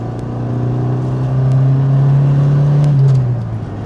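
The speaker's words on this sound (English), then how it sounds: "This is fully stock exhaust. It still has a catalytic converter and a muffler." A Mitsubishi Lancer sports sedan on its fully stock exhaust, still fitted with catalytic converter and muffler, gives a steady, loud, close engine drone that swells slightly midway, then eases off.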